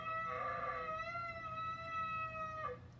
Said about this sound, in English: is the noise that is made by the ram's horn